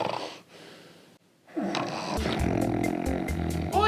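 A young man asleep while he should be editing, breathing in long snoring rasps, then loud close rumbling snorts building over background sound.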